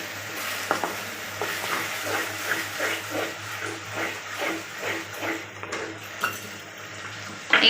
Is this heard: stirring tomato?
yes